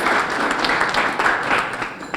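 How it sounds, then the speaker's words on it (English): A crowd at an award gala gives a warm, continuous round of applause for a TD Bank vice president, the dense clapping holding steady before tapering slightly at the end. "Sally, round of applause"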